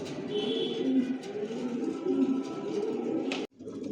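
Adult racer pigeons of a Johnson long line, leg-tagged and vaccinated, coo steadily in a loft, a dense low murmur of overlapping calls close by, ending with a brief knock and drop near the end.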